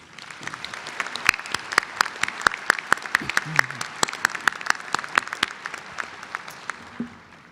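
Steady applause from a sizable crowd at a university commencement ceremony, dense overlapping claps continuing throughout, fairly loud and even before tapering at the end.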